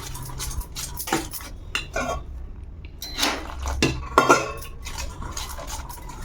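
Gram flour batter with a little water being mixed for masala peanuts, a spoon clinking and scraping against a steel bowl in irregular close strokes, with no talking.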